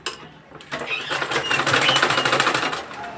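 A sewing machine runs a straight seam along turban fabric, starting after a short pause and building into a rapid, close, rhythmic stitching chatter.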